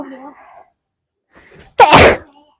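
A single loud, sharp sneeze bursts out near the end, following a few moments of quiet speech and a short pause, in a home setting during a cooking tasting session.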